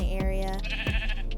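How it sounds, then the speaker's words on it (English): Sheep in Minecraft bleat in two or three short, wavering calls over a steady background hum, fairly close and clear. "we're gonna make a nice sheep pen because there's loads of sheep in the area"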